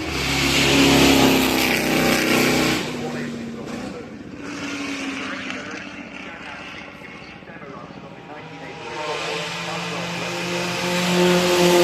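All-electric race car with four motors and all-wheel drive accelerates up the Goodwood Festival of Speed hill climb, a loud rising whine that passes and fades, then swells again, heard under steady commentary.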